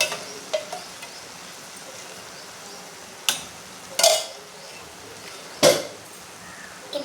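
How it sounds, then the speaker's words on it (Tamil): Drumstick leaves and moong dal are stirred in a pan, with a few sharp scraping clinks of a spoon against metal scattered over quiet background noise. "இப்போ நல்லா கிண்டி விடணும்."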